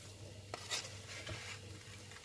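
Sugar-coated peanuts being stirred in a pan while cooking, a soft scraping and rustle with a couple of brief louder scrapes, fairly quiet and steady over a low background hum.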